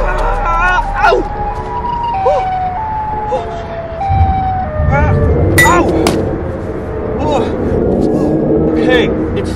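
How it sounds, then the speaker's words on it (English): A cartoon-style siren sound effect wails and warbles up and down, loud and near, mixed with thumps, yelps and animated character voices talking over it. "Sirens."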